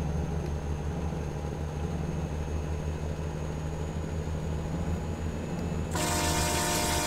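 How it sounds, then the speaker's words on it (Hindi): In Euro Truck Simulator 2, a truck's steady engine drone runs under the cab before a loud, sustained horn blast bursts in near the end and holds until the clip stops. "और भाई क्या खतरनाक हॉर्न है"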